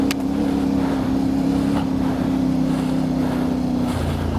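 A CF Moto 450MT motorcycle on a trail, its engine droning at a steady pitch throughout, close and loud, then dropping briefly near the end, with a rider talking over it.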